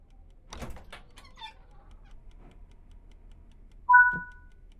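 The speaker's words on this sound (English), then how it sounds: "open both doors to the electric cabinet" Doors of the electric cabinet in the front cab of a Czech Class 750 locomotive in Train Sim World 6 swing open: a few quiet latch clicks and knocks, then a short tonal squeal and clunk near the end.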